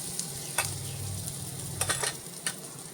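Mustard seeds, turmeric and asafoetida sizzle steadily in hot oil while being stirred, with a continuous frying hiss and a few sharp crackles and pops, close and alone.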